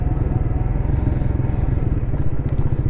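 A Suzuki GSX 150 MotoGP Edition motorcycle rides along with a steady, low, pulsing engine note. The sound holds close and continuous throughout, without talk.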